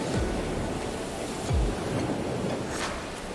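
Ocean waves wash steadily onto a beach in Guam at sunset, a continuous broadband surf roar with a couple of soft low thumps, no voices.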